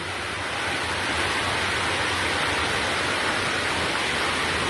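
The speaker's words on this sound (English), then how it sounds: "When rain falling, it pours." Heavy rain pours down in a dense, constant roar, loud and unbroken for the whole stretch.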